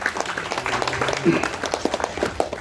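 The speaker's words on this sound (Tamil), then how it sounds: "அவருக்கு முதல்ல ஒரு நல்ல கைத்தட்டு கொடுக்கணும்னு நான் எப்பவுமே ஆசைப்படுவேன்" An audience at a grand launch event applauds steadily through a crowded hall, the clapping spread and moderately loud, with voices talking over it.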